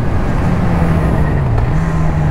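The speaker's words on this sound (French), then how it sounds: "Bon, en revanche, le moteur, qu'est-ce qu'il est bien." Honda CB1000R four-cylinder roadster motorcycle engine held at a steady, loud rev, a continuous throaty drone with slight pitch dips and rises, close by and with no talk over it.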